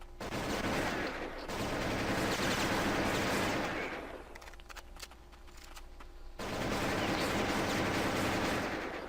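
Gunfire in the Counter-Strike video game, bursts of rapid automatic shots, then a short pause with mechanical clicks, then firing resumes, loud and sustained.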